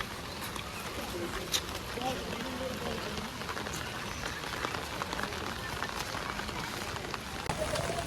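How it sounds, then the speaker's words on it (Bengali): Rain falling steadily on a village road on Eid morning, a dense even patter with scattered sharper drops, heard outdoors at moderate loudness throughout. "ভালো বৃষ্টি হইতেছে, বৃষ্টি বাড়তেছে আস্তে আস্তে।"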